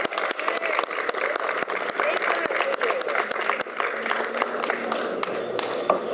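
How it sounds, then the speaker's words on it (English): A rally crowd claps for a speaker taking the podium, dense applause near and lively throughout, with a voice faintly mixed in. "Well, thank you for that applause"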